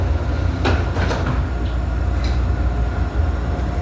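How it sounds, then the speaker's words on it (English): CTA Brown Line rail car 3398 with its doors closing at a downtown Chicago Loop station, a few sharp knocks and thuds over a steady low rumble of the idling train, no voices. "Doors closing."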